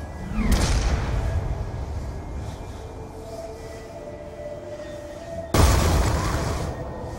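Two heavy booming shots ring out in a video game, the first early on and the second several seconds later, each a loud thud with a long rumbling decay over a steady background hum.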